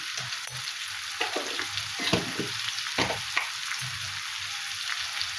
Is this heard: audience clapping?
no